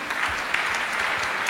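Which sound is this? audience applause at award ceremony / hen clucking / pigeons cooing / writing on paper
audience applause at award ceremony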